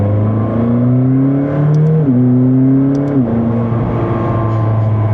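McLaren 600LT Spider in manual mode, second gear, pulling hard with a steady rising engine note and two quick upshift dips. Loud and close, heard from the cabin with no talking.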